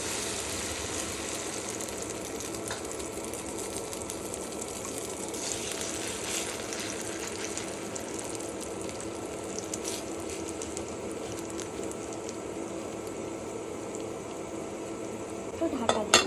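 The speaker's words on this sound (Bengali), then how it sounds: "তেল গরম হয়ে গেছে, এবার এটা দিয়ে দেব।" Chira omelette batter frying in hot white oil, a steady, continuous sizzle with faint clinks of utensils and a few sharper knocks at the very end.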